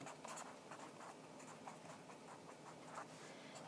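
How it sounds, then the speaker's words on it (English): Writing by hand with short, quiet scratching strokes in a steady rhythm, close and faint, with no talking. "Let me write that over here."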